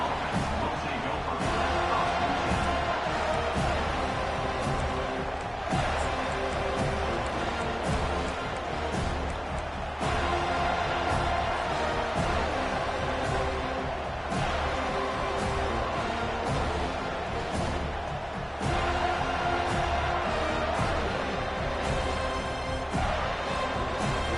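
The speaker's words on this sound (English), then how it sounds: "They challenge this crowd to bring the energy, and I'd say they're doing that." A stadium crowd at a Florida State college football game keeps up a loud, continuous roar of cheering throughout, while a commentator talks over it.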